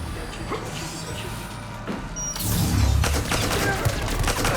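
Pistol gunfire during a firefight in the video game Mass Effect 3, a loud volley of sharp shots with booming impacts in the second half over a steady game backdrop, with a voice speaking briefly.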